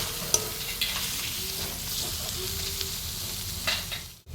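Chilli powder and turmeric fry among onion, tomato and chilli in a pan for goat curry, a low steady sizzle with a few spoon clinks and scraping stirs, close by and fairly quiet.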